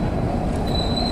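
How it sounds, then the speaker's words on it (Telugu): A goods train passing at Pendurthi railway station, a loud close rumble of rolling wagons with a thin wheel squeal rising over it, continuous through the short moment. "గూడ్స్ ట్రైన్ అయితే ఒకటి వెళ్తుంది"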